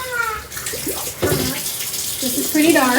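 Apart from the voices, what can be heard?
water rinsing dyed fabric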